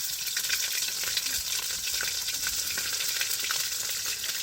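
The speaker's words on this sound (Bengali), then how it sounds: "আদা রসুন একটু ভেজে নিই" Ginger-garlic paste frying in oil with cumin seeds and garam masala sizzles steadily and close, a constant crackling hiss with faint stirring scrapes and no talk.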